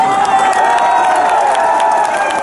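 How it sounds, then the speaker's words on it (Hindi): Dense crowd noise at a Congress party rally outdoors, a steady roar of clapping and cheering from a large audience, continuous and loud throughout with no pauses. "अभी आप ताली बजा रहे हो"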